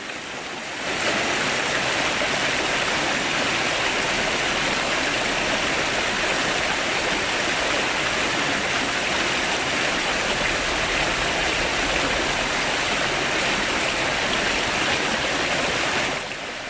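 A stream flows with little water through a ravine near Sotiel and Almagrera, a steady, loud broadband rush that starts abruptly and continues unbroken, with no voices.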